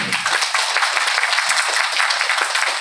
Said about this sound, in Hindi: उनके लिए एक बार जोरदार ताली बजाओ